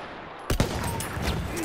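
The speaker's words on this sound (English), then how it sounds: "Enemy machine gun!" Enemy machine gun in Battlefield 1 opens with a sudden pair of sharp bursts after a near-silent start, then a rattling spray of fire continues under battlefield noise.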